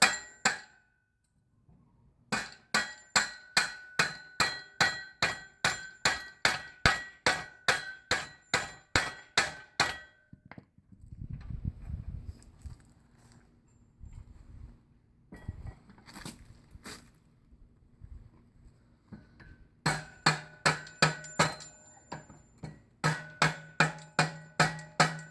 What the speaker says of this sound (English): you slide the axle in. And use a rubber mallet or something.